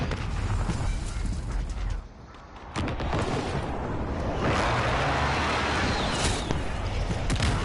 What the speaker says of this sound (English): Allied airstrike incoming.